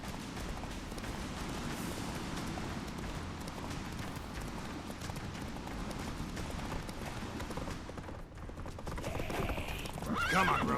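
Roach, Geralt's horse in The Witcher 3, gallops with a steady, dense drumming of hoofbeats throughout. A whinny and rising rush of noise come near the end.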